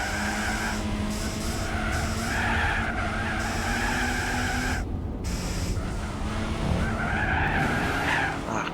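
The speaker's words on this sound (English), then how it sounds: "This little baby engine ain't got the torque for all this stuff." Tires screeching continuously as a small car with a 1.4-litre engine skids through corners in Gran Turismo 4, loud and sustained with engine drone beneath and brief dips in the squeal.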